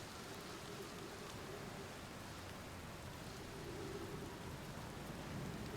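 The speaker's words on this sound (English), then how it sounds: "There is a storm coming anyway." Steady rainstorm in the video game Outer Wilds, a soft continuous hiss of falling rain with low thunder rumbling underneath, fairly faint and unbroken throughout.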